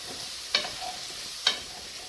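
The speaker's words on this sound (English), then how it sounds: "And as these are sauteing, as it's sauteing, it's cleaning up the coating on the bottom." Onions and carrots saute in a pot with a steady, moderate sizzle, broken by two sharp scraping taps as a utensil stirs across the bottom coating of a beef stew.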